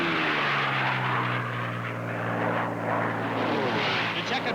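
A racing propeller airplane at the 1979 Reno Air Races drones loudly past the grandstand, its engine pitch sliding downward as it goes by, with a voice talking faintly underneath.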